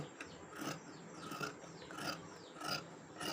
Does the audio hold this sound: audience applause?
no